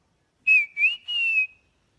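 A person whistles an imitation of the call of a bird called the Subag, three short clear tonal phrases with gentle pitch bends, close and alone.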